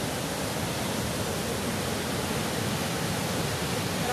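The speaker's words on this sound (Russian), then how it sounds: "Бурная, бурная река." A rushing, turbulent river at the start of a forest route makes a loud, steady, hissing roar close by, unbroken for the whole stretch, with no voices.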